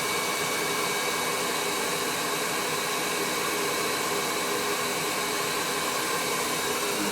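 A hair dryer blow-drying long hair gives a steady, loud whooshing roar that holds unbroken throughout, close by, with no talking.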